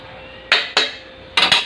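Boiled taro is mashed in a cooking pot of milkfish sinigang, giving four loud metallic clanks of utensil on pot in an uneven rhythm, close and alone.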